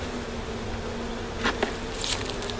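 A dense, steady buzz of many honeybees in a hive hums close by, with a few brief louder bursts as individual bees pass near.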